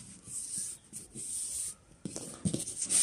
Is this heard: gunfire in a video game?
no